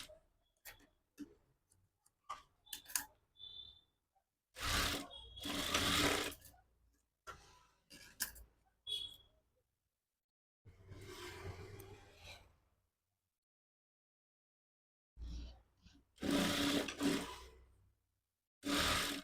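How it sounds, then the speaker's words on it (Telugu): A sewing machine stitches the front part of a size 34 maggam-work blouse. It runs in three separate bursts, with light ticking and clicking in the gaps between them. The sound is close and moderately loud. "ఇలా ఫ్రంట్ పార్ట్ని స్టిచ్ చేసుకోవాలి."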